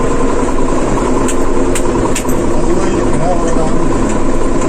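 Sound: tractor engine running

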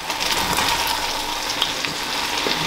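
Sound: stirring coconut curry chickpea stew in pot

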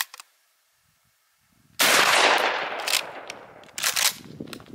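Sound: shotgun firing Remington 3 inch slug from 18-inch smooth bore

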